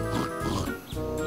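Pigs in a Thomas and Friends train video game oink in a short burst of two or three grunting calls, clear and close against a steady synthetic game background.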